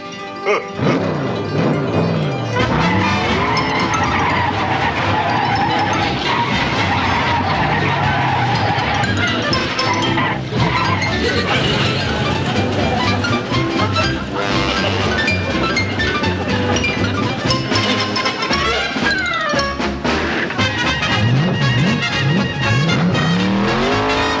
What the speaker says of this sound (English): I've never seen such driving, Mr. Munster.